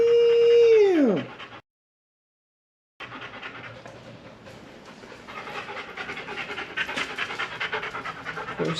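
A dog pants in rapid, rhythmic huffs close by, continuing steadily after a falling whistle-like tone and a brief silence at the start.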